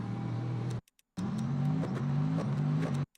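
A McLaren race car in the Le Mans Ultimate racing game holds a steady, loud engine drone. The engine cuts out for a moment, then returns at a slightly rising pitch.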